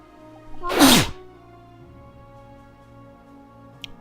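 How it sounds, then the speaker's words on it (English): A single loud human sneeze bursts out close to the microphone against a quiet, steady background, then fades into near silence. "I had to sneeze there."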